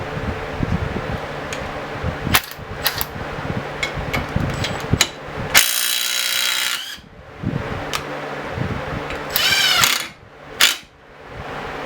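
Cordless impact wrench torquing a bolt at 50 foot-pounds, loud rattling hammering bursts alongside clanks and handling noises of tools and metal, close up, with no speech.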